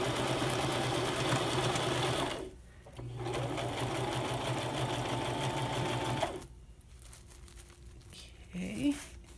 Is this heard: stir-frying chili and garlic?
no